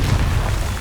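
A Confringo blasting spell detonates in Hogwarts Legacy, one short, loud, deep boom with a rumbling burst that fills the moment, with no talk.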